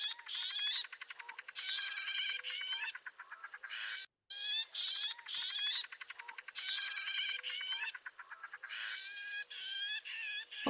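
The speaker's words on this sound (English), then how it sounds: "you'll be familiar with their juveniles begging calls, which are pretty constant in July when they're out and about begging for food" Juvenile loggerhead shrikes give constant, rapid, raspy begging calls in repeated bursts, fairly close and clear, with a short gap midway and no voices.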